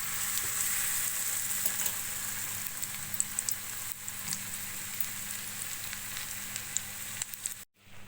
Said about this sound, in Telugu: ఈ విధంగా వేగితే సరిపోతుంది వామాకు బజ్జీలు